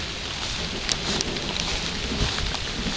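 Steady rain falls during a thunderstorm with hurricane-force wind, a dense continuous hiss with a few brief louder spatters, no voices.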